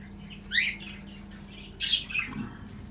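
Pet cockatiels and budgerigars kept together give two short, bright chirping bursts about a second apart, with a quieter call between, over a low steady background hum.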